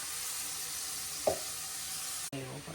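Grated radish with spices and asafoetida fries in oil as a soft, steady hiss, broken by a brief utensil scrape near the middle and a sharp clunk toward the end.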